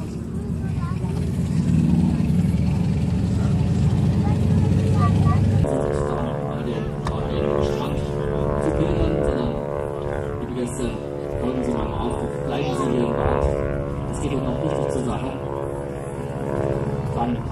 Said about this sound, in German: In einen Stamper-Doppeldecker.